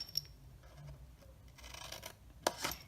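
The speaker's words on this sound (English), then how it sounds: "we are going to snip up these 2 score lines" Scissors cut up two score lines in cardstock for a paper tissue box holder. After faint rustling there are two crisp, close snips near the end.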